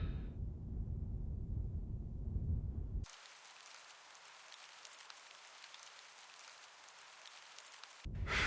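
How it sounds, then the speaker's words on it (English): Rain falling in the video game Her Majesty's SPIFFING, a steady hiss of rainfall that cuts in abruptly after a low rumbling passage and stops just as suddenly near the end, fairly soft and even. "Why does it always rain in England?"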